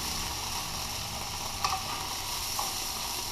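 Yellowtail fillet sizzles and fries steadily in a hot pan, a continuous close hiss broken by two brief louder crackles, with no voices.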